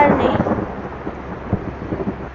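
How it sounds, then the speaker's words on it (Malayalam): Heavy rain and rumbling thunder on a hill road, a dense steady wash of rain with low booming swells, close and loud, no voices. "നല്ല മഴയാണ് ഗൈസ്"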